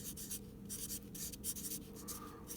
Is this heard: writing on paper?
yes